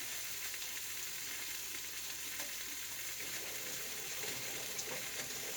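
A hot pot for a chuck roast sizzles and bubbles steadily, with a continuous crackling hiss and faint watery movement and no voices.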